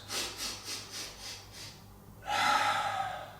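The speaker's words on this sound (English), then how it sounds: "6 quick small in-breaths" Six quick, small in-breaths taken in steady succession as a breathing technique, each a short sniffing inhale, followed by a longer, louder breath out; close and clear with no talking.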